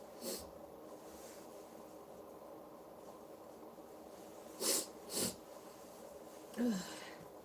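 A person sniffs and blows or wipes their nose in a few short, soft bursts against a quiet background, with one brief nasal snort near the end.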